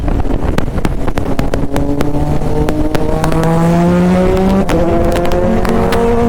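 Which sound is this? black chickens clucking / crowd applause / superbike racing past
superbike racing past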